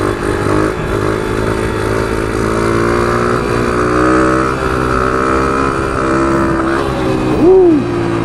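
An Icebear Champion CT70 clone minibike fitted with a Piranha 140 engine drones loudly and close, a steady buzzing engine note that rises and surges near the end as it lifts into a wheelie, no talk.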